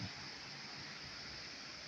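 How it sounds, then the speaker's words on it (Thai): Steady broadband rush of a waterfall at Wat Tham Bon in Ubon Ratchathani, Thailand, a constant even roar with no voices over it. "น้ำตกสวยๆทางห้วยน้ำเงินพี่น้องฟังไป"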